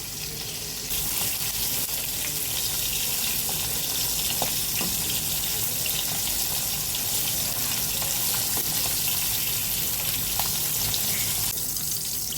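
Tengna fish frying in a pan over a medium flame, a steady close sizzle and crackle running continuously with only small bursts and no talking.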